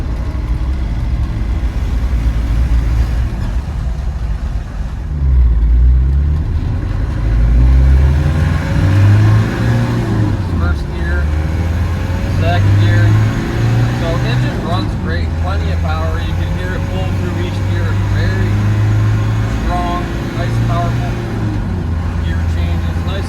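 A 1995 Land Rover Defender 110 camper conversion with a 300tdi diesel drives along a road, its low engine drone rising and falling through gear changes under steady road and cabin noise, heard from inside the vehicle.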